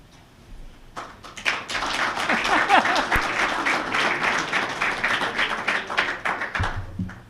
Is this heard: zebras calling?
no